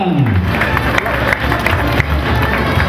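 A crowd claps steadily throughout, a dense, even applause with scattered cheers mixed in, welcoming a neighborhood band's arrival at a festival in Huancavelica, Peru.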